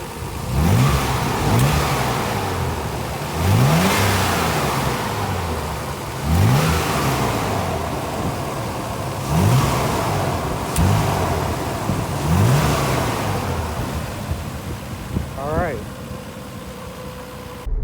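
A Nissan 300ZX fitted with cold air intakes revs repeatedly, about six sharp throttle blips rising and falling over a steady idle, loud and close, followed by a quicker rev near the end.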